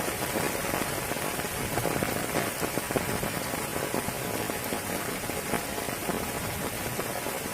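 Steady, heavy rain patters densely on a chicken coop with plastic sheeting, a continuous hiss with scattered louder drops and no voices.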